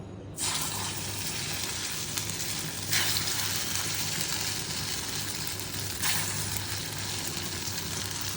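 Foli fish kofta fry in hot oil in a wok, giving a close, steady hiss of sizzling throughout with a few brief louder surges and no talking.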